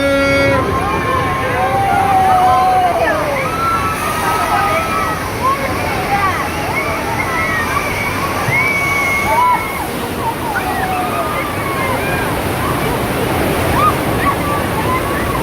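A studio tour tram splashes through water at Universal Studios Hollywood, with continuous rushing and sloshing water throughout and people talking and shouting excitedly over it.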